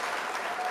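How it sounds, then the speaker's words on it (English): A short burst of dense applause at a virtual district monthly meeting, a steady, fairly faint wash of clapping with no gaps. "All right, everyone, please give a round of applause for Ms. Zola."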